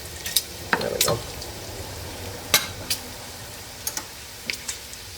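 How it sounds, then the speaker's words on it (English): Bacon pieces frying and rendering fat in a pot for clam chowder, a soft, steady sizzle close by, broken by sharp spattering pops and a few clinks of a utensil against the pot. "So we're just going to let that render some fat out and get some good flavor going."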